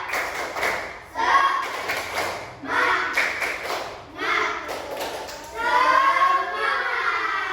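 A classroom of students does a rhythmic spirit clap, bursts of hand claps and thumps in quick patterned groups, repeated several times up close, mixed with children's voices chanting along.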